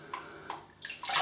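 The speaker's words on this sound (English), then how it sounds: "I'll put the razor in the water just to get some heat into the Ladas blade" A Gillette Superspeed razor is dipped into water to warm its Lada blade, with a few close, short splashes and swishes, the last one longer.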